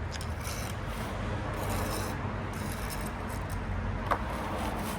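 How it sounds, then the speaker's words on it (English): A trowel scrapes excess mortar off brickwork during repointing, a steady rough rasping scrape over constant background noise with one sharp tap near the end. "I like to scrape the excess off before I join it in."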